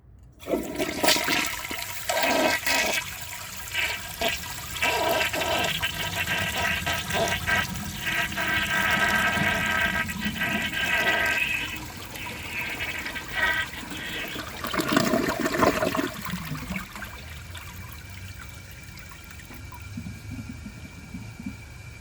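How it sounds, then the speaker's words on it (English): A 1985 Kilgore Aladdin toilet with a clogged siphon jet flushes with a strong rushing roar that swirls and gurgles, surges again midway, then settles into a quieter trickle as the tank refills. "I'm going to try a clogged siphon jet and see how it flushes like that"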